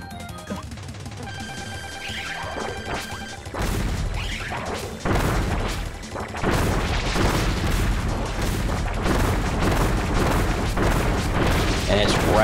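Bomber cutter bombs burst again and again in Kirby Return to Dreamland Deluxe, a dense run of loud booms and crashes that thickens after the first few seconds over busy game music.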